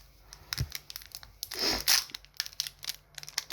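A Pokémon booster pack made of aluminium foil is torn open by hand, with crinkling handling, a few sharp rips and crunchy bursts of foil, close and alone.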